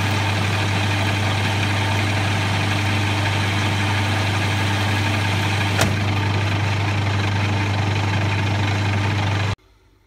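Metal lathe taking a fine cut on a steel shaft with a carbide tool, a steady mechanical hum with a low drone running evenly for about nine seconds, one brief click midway, then cutting off abruptly.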